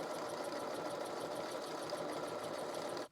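A sewing machine runs in a steady, fast, quiet whir while stitching a stretch velvet shoulder seam, stopping abruptly at the end.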